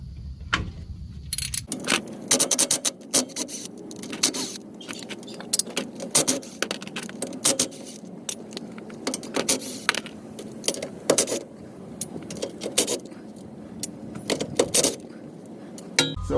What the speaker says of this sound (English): So I like to start with my ratchet, and then I'll just use my impact driver guys, so that we don't damage anything.